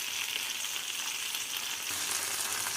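Okra and tomatoes sizzling steadily in a hot pan, a close, even frying hiss with no one talking.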